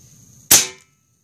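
An Airforce Escape UL air rifle in .22 fires a single shot, a sharp loud crack with a quick decaying tail, heard close in an otherwise quiet setting.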